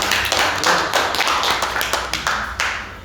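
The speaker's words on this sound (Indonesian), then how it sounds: "Tepuk tangan dulu buat para tokoh-tokoh pahlawan kita." A small group at a church youth gathering claps for national heroes, giving a few seconds of uneven, loose hand claps close by, with distinct individual slaps rather than a dense roar and no speech over it.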